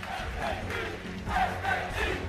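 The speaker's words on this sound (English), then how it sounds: "You can hear the chants of SKT coming out of the crowd." Crowd chanting "SKT" for SK Telecom T1 at the 2015 League of Legends World Championship semifinal against Origen in Belgium, a steady loud roar of massed voices rising and falling in rhythmic waves throughout.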